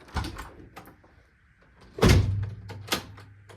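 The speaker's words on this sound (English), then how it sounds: "Let me get this door locked." A door swings shut with a firm thunk close by, followed by a low rumble and a second, fainter knock as it is latched and locked, with no talk over it.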